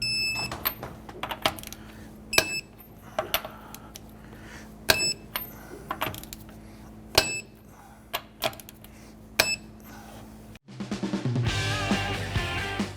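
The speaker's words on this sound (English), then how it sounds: "Let's go ahead and torque our lug nuts down to 95 foot-pounds." A torque wrench tightens lug nuts on a 2009-2015 Honda Pilot front wheel, giving repeated sharp clicks at irregular intervals over a low hum, then a louder burst of different sound at the end.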